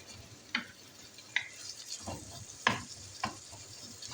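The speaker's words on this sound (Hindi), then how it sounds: "अब इसके अंदर इसको अच्छे तरीके से भून लेती हूँ।" Minced qeema roasting in a pan, a soft continuous sizzle punctuated by several sharp scrapes and taps of a spoon being stirred, fairly quiet and without talk.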